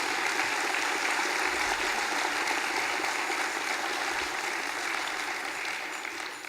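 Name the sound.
audience applause for the congress organising team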